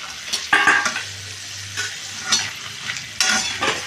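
Peanuts and dried red chillies frying in a pan, a soft, steady sizzle broken by intermittent scraping stir strokes, close and moderately quiet, no voices.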